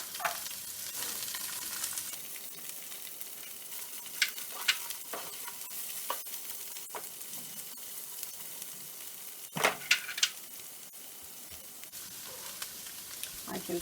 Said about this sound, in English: now I'm going to add my red and green cabbage